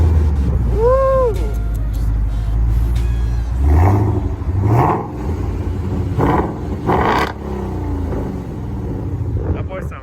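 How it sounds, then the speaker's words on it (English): Ford Mustang engine revved at a car meet, several loud throaty surges rising and falling close by, with a cheer early on and voices around it. "he's gonna give us a nice rev real quick."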